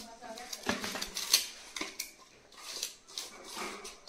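A spoon stirs sugar into a jackfruit mixture in a metal pot, giving faint, irregular clinks and scrapes against the pot with brief pauses between strokes.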